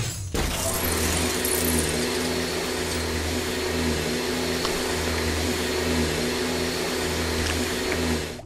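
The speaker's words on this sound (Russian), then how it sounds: "Пылесос." A vacuum cleaner hums continuously in the Lego Harry Potter video game, a loud, steady motor drone that holds unchanged from start to finish with no talking over it.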